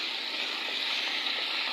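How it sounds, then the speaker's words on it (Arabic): Hot water poured steadily into a cooking pot for a stew of cow trotters, a continuous close splashing rush that stays even and unbroken throughout, with no talk over it. "ونزل كده الميه السخنه"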